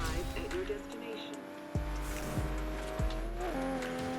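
Toyota Supra engine in the racing video game Forza Horizon: a steady droning engine with rising and falling pitch, brief tire squeals and shifts, under someone talking.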